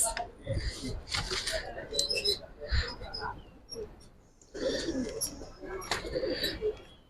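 Giribaz pigeons, silver army and sabchila types, coo in low repeated murmurs near a seller's stall, with people talking over the birds throughout.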